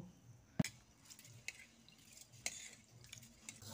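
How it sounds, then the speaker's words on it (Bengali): Rice being washed in a large bowl of water, with soft sloshing and a few sharp clinks and drips, close and quiet with no talk. "তারপর জল পাল্টে পাল্টে চালটাকে ভালোভাবে ধুয়ে নিব।"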